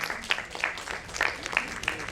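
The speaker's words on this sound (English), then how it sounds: "A big round of applause for Farzeen Khan." Brief audience applause at a corporate conference, a few scattered claps standing out against a room murmur, short and moderately loud.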